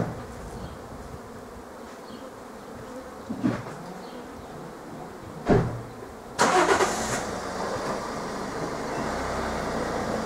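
A car engine starts with a sudden loud burst and then runs as the car moves forward near beehives, following a few knocks over a constant background buzz of bees.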